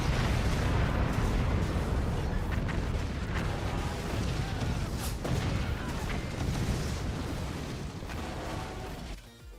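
Cannon shell explosions in the Forts RTS game, a loud, dense barrage of overlapping blasts and crumbling impacts that continues almost the whole time and fades out at the end.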